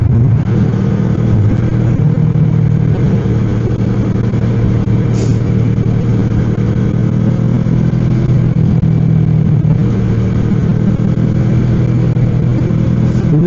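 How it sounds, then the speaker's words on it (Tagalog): A motorcycle engine with a loud exhaust rumbles continuously, its low throaty drone holding for the whole stretch with little variation, no voices. "maingay masyado yung ating tambutso"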